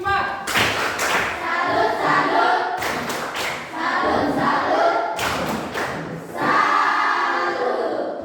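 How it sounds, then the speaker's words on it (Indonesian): A classroom of students performs a rhythmic salute clap, with loud bursts of patterned clapping and thumps recurring about every two seconds and children's voices chanting along. "Tepuk salut untuk kelompok 4"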